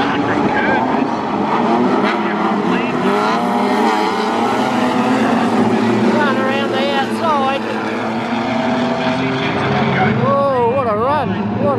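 Open-wheel race cars roar off the start of a heat race at Mildura Speedway, engines loud and continuous with revving pitch sweeps as the field accelerates, while a commentator talks over the noise.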